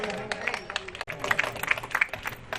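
Scattered hand clapping from an audience at a foundation day celebration, uneven and moderately close, mixed with background voices.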